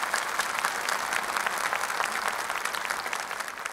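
Audience applause at a Quran recitation competition, a steady sustained wave of many hands clapping at close range with no voices over it.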